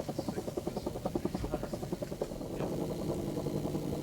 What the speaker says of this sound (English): The chopper methodically roamed the border, picking out targets, launching,